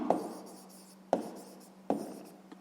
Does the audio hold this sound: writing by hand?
yes